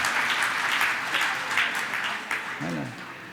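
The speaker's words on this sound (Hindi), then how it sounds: "एक बार ताली तो बजा दो" Audience clapping during a Jain monk's sermon at Gunayatan, Shikharji, a burst of scattered claps that swells and fades, with a brief voice heard near the end.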